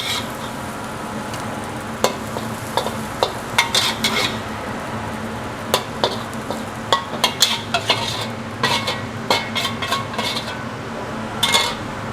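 Indonesian street-style nasi goreng is stir-fried in a pan, with a steady sizzle under repeated sharp scrapes and clinks of a metal spatula against the pan at irregular intervals.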